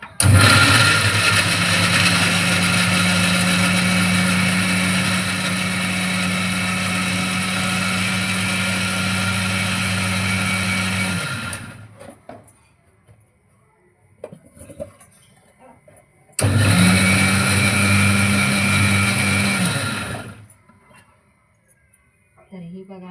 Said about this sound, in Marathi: मिक्सरला लावून द्यायचं आहे